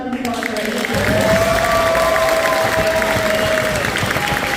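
An audience at a school band awards concert breaks into loud, steady applause. Dense clapping swells after a brief voice at the start and holds evenly, with a sustained tone and a few cheers mixed in.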